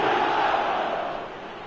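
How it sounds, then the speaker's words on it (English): Stadium crowd in a football video game roars in a broad, sustained wash of noise that swells at first, then slowly eases off over under two seconds, with no talk over it. "the crowd are reacting to that now"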